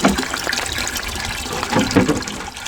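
Water from a 12v pump gushes steadily through pipe on an allotment, a continuous rushing, splashing flow with slight surges, close and fairly loud.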